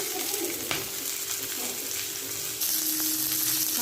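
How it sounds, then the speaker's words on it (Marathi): Fish frying in a pan, a steady close sizzle with a few clinks and stirring sounds, no voices. "मासे तळताना कधी पण एका जागीच उभं राहायचं नाहीतर मग ते इकडे काम करा इकडे तळा ते जळतात"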